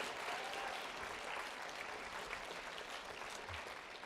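Steady, sustained audience applause fills a hall at a reading program event with First Lady Barbara Bush, even and continuous, heard from a short distance with no voices over it.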